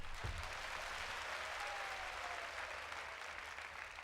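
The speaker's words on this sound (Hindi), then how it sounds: "ये मंत्री ताली बजा रहे हैं" Ministers clap together in steady, dense applause that holds at an even level throughout, with no voices standing out.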